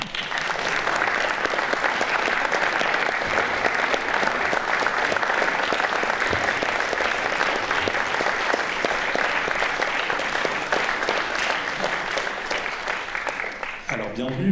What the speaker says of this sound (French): je vous prie d'applaudir sous un tonnerre d'applaudissements